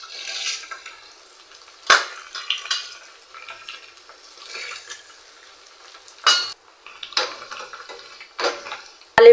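Chana dal and dry red chillies crackle in hot oil for a tempering, with sharp popping bursts and spoon-stirring clinks between quieter sizzling stretches.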